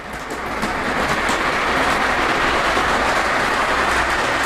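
Polar Express toy train with a bell flatcar climbing a grade on a model layout, a close, continuous rumble and rattle of wheels on track holding steady throughout.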